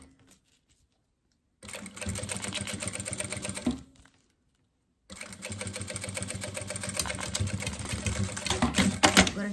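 A sewing machine stitches a fabric toiletry bag in two fast, rattling runs, with a silent pause between them, close and loud.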